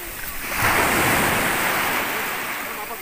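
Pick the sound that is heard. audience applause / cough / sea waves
sea waves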